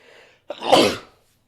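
A single loud sneeze bursts out after a faint murmur, with a sharp onset and a breathy, spreading tail lasting under a second.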